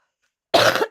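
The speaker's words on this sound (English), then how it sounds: "I've been left with a bit of a cough still from Hurghada" A single short, close cough, sharp and loud, after half a second of silence, with no talk.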